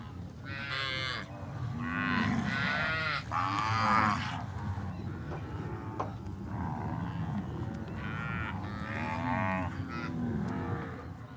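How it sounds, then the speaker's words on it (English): Pantanal zebu cattle being loaded onto a boat on the Paraguay River low repeatedly, several long drawn-out moos overlapping near and far over a steady rumbling background, with no talk. "They board the cattle on the Paraguay River."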